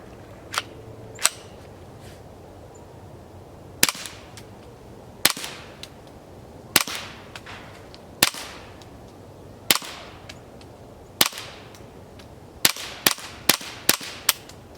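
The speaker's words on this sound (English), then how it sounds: "you've got that super quiet, low report, no hearing protection" A suppressed Ruger 10/22 carbon fiber rifle fitted with a Banish 22 suppressor fires about a dozen sharp, quiet cracks, spaced irregularly and then in a quicker string near the end, over faint background.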